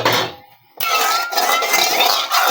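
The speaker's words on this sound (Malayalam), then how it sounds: "ചീനച്ചട്ടി കഴുകി" A metal wok-style pan is being rinsed nearby, with loud rushing water and clanking pan sounds, a short pause, then more water and clinks.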